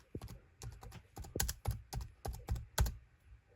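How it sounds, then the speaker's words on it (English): Typing on a netbook computer keyboard, a quick irregular run of close, crisp key clicks with short pauses and no talking. "time to type some word."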